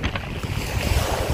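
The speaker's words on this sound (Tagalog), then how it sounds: "Ang lakas ng alon." Strong sea waves slap and rush against a moving fishing boat along a rocky coastline, a loud continuous wash with wind buffeting the microphone throughout.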